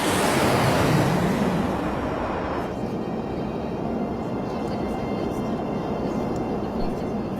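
Steady broadband roar of a Sriwijaya Air jet airliner in flight, loud and continuous, with a slight drop in intensity partway through.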